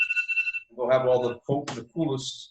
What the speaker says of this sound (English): That's the alarm to call you.